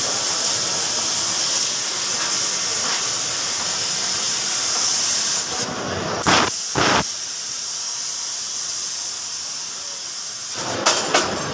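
Machine tool running at a busy machine-tools trade exhibition hall: a steady loud hiss with a brief burst of sharp pneumatic blasts in the middle, then a few clicks near the end.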